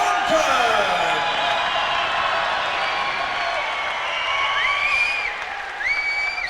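Boxing crowd at a Cage Warriors event in Belfast, a dense sustained roar of cheering and whistles filling the arena at loud, steady level, with a few sharp whistles near the end.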